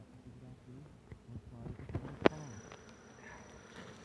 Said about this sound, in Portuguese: As abelhas tudo voando